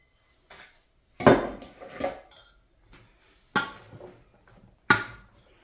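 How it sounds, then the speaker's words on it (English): Octopus, shrimp and squid salad tossed in a bowl, with a few sharp clinks and scrapes of a utensil against the bowl spaced apart, close and fairly loud, with quiet gaps between. "Mix it all up"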